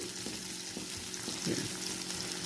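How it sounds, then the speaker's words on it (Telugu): Long-sliced onions fry in ghee for a Mumbai-style tawa pulao, a constant hissing sizzle with a few soft stirring scrapes, close and quiet. "ఈ ఉల్లిపాయలు వేయించుకోవాలి. ఉల్లిపాయలు కొంచెం వేగాలి."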